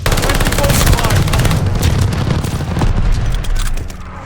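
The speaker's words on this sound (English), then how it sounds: "Teammate called an airstrike." Airstrike explosions in the video game Mass Effect Legendary Edition: a dense, continuous barrage of rumbling blasts and rapid gunfire-like bursts, loud and sustained throughout.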